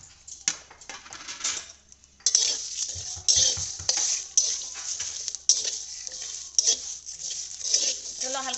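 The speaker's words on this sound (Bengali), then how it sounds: "চলো হালকা ভেজে দিই" Bay leaves, coriander, cumin and fennel seeds are lightly fried in a pan, giving a bright sizzle broken by repeated clinks and scrapes of a metal spoon against the pan.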